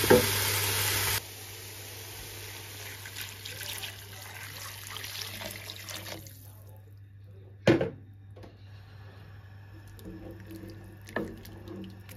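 Stock pours into a pot on the stove with a steady liquid rush and sizzle, then settles into a quieter simmer broken by a sharp clank and a few faint stirring sounds, heard close and alone.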